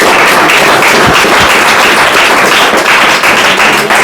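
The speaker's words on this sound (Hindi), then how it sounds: "ताली बजाओ प्रियांशी के लिए" A classroom of students applauds during a class 9 prize distribution, dense, loud, continuous clapping from many hands close by, steady throughout with no talking.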